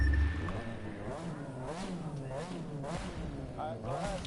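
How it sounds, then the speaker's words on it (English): Three-rotor rotary engine car in The Crew 2 racing game, revving with a buzzing, warbling pitch that rises and falls repeatedly, moderately quiet beneath someone talking over it. "But that's what you call a rotary engine. Especially a 3-rotor."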